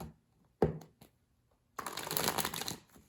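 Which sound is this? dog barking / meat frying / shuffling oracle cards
shuffling oracle cards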